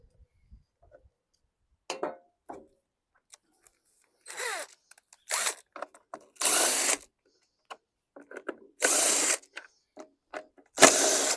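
A power tool spins off the recoil starter of a 2014 Murray push mower using a 5/16 socket, giving several loud, separate bursts of whirring and ratcheting between quieter clicks and handling noises.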